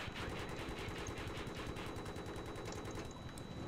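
Rapid, steady automatic fire from Battlefield 3 in Rush mode, one dense unbroken burst of shots rattling close and loud throughout with no talking.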